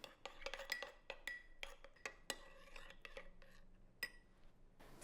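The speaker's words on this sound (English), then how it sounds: "Now mix all that together." A spoon stirring dried oregano and garlic powder into pizza sauce in a bowl, with irregular light clinks and scrapes against the dish, quiet and close, with no talk.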